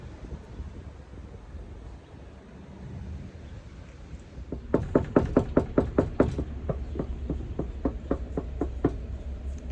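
Knuckles rap on a door in quick bursts of sharp, close knocks, repeated in several rhythmic groups over several seconds, above steady outdoor wind noise on the microphone.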